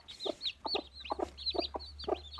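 Buff Orpington hens clucking in a series of short, close, repeated clucks with a few higher squawks, no talking.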